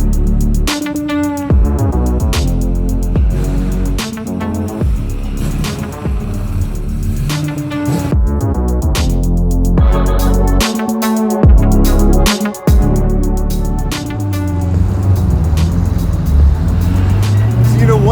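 A 650 hp track-prepped C6 Z06 Corvette with stock Z06 exhaust minus catalytic converters drives loud and close, its engine revving and shifting through rising and falling pitches for the full stretch.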